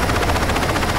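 A helicopter in the Saints Row 2 video game gives off a loud, close, rapid rhythmic chopping that holds steady and unbroken, with no voices over it.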